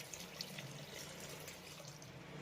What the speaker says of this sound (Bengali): এই কষিয়ে নেওয়া মশলার ভিতরে আমি অ্যাড করব দেড় কাপের মতো জল